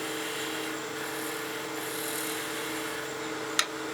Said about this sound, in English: Get the long point of that skew down into the top of that bead